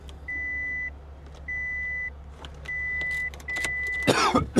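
A car engine idles low and steady at a salvage auction lot, while repeated electronic warning beeps chime over it and a brief rustle of movement comes near the end.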